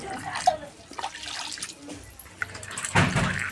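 Potatoes are washed by hand in water, with sloshing, splashing and clattering in short uneven bursts close by and a louder splash near the end.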